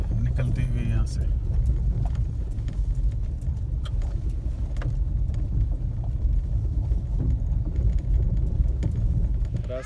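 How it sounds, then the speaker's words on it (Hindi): A car passes along a narrow village road, its steady engine rumble and tyre noise close by throughout, while people talk over it. "एक गाड़ी निकलती हुई यहाँ से"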